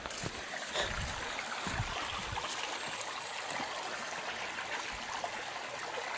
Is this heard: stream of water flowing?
yes